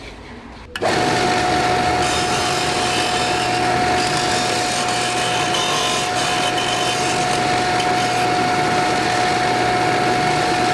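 An Axminster Craft AC200BDS belt and disc sander switches on with a sudden thump and then runs continuously at full speed, a loud close motor whine with a steady high tone and dense mechanical rush.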